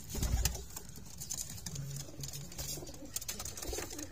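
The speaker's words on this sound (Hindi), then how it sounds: "देखो माशाल्लाह कबूतरी के बच्चे निकले।" Pigeons cooing softly beside newly hatched pigeon chicks, a faint low cooing running through the middle over scattered clicks and background noise.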